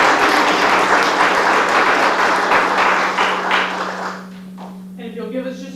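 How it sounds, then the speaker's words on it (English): An audience at a law competition championship round applauds in a dense, steady burst that fades out after a few seconds, leaving a few scattered sounds and a low hum. "So once again, let's give them a round of applause."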